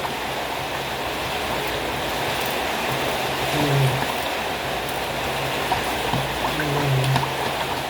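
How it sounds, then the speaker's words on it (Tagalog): Heavy rain pouring steadily during a typhoon, a constant loud hiss of water with faint low clatter underneath, no break throughout. "ang lakas ng bagyo, ang ulan"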